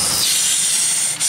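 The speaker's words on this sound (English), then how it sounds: "There's only a few vacuum lines over here." A vacuum line on a Pontiac Aztek engine gives a steady, loud, high-pitched hiss, close and continuous with a brief dip at the very end.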